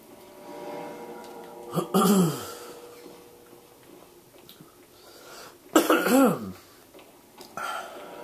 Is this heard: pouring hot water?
no